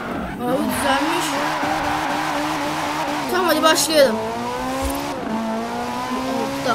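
Car engine revving with tire squeal from a driving video game, the engine pitch rising and falling through several gear shifts, loud and continuous beneath someone speaking.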